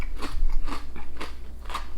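Crunchy Thai snack from a sweets box being bitten and chewed, four sharp crackling crunches spaced about half a second apart, close and loud with no talk.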